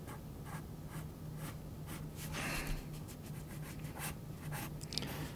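A freshly sharpened pencil scratches dark strokes across paper while drawing a cartoon figure, a close, quiet, continuous scraping with short repeated bursts and soft breathing in the background.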